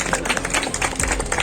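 A church congregation claps together in one burst of applause, a dense, even patter of many hands that holds steady through the short moment.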